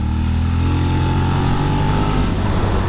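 A 2016 Suzuki SV650 motorcycle engine runs steadily and loudly up close, a dense continuous drone with a smooth, full-bodied tone and no talk over it.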